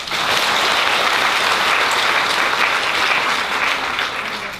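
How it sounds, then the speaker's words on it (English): Loud, dense applause from a graduation ceremony crowd, continuous clapping holding steady throughout before easing slightly at the end. "Clap your hands for doing it."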